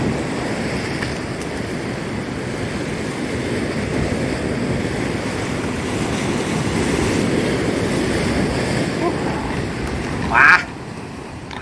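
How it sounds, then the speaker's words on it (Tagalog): Strong ocean waves on the Salalah coast of Oman during fishing, a continuous loud roar and wash of surf with a brief sharp burst near the end. "Sumabay sa lakas ng alon, no?"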